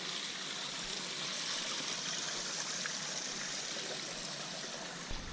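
Natural spring water runs over bedrock in a small creek, a steady, even trickling and babbling heard close up and fairly quiet, with no voices.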